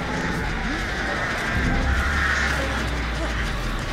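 Crows cawing inside the horror video game Dead by Daylight, faint calls buried in a dense, steady wash of game ambience and noise, with a low rumble swelling midway.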